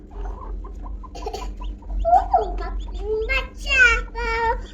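Newly hatched Brahma chicks peep in high, wavering chirps at a farm, several short calls rising toward the end, close by over a low steady hum.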